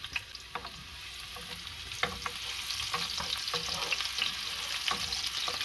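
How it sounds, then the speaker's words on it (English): Chopped onions sizzling in olive oil in a pot, a bright steady frying hiss with crackles and a few stirring scrapes, close and fairly quiet, no talk. "So now I'm going to add my chopped onions"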